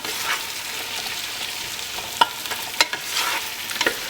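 Lemongrass and tamarind sauté in a pan for a pork curry, making a soft, even sizzle nearby with several crisp clicks of a utensil against the pan and no speech.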